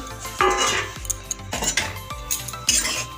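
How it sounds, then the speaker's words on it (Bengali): Rice flour going into a hot, freshly washed wok, with repeated metallic clinks and scrapes of a utensil against the pan over low background noise, no speech. "এবার আমি চাল গুঁড়োটা কড়াতে দিয়ে দেবো।"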